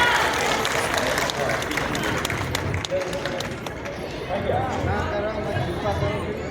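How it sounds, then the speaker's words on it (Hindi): A crowd at a gathering claps loudly, a dense patter of many hands that stays strong for several seconds before thinning out, while a voice speaks over part of it. "एक बार जोरदार ताली बजा दो"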